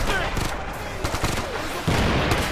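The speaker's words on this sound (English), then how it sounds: "Firing their weapons." Gunfire rattles in the video game Ghost Recon Future Soldier, with loud overlapping bursts of shots and booms packed densely through the whole moment, close and continuous.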